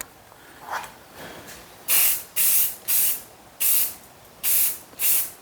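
An aerosol can sprays paint onto a welded horseshoe rooster sculpture inside a spray booth. After a couple of faint hisses come six loud, sharp bursts of spray, each about half a second long, separated by short pauses.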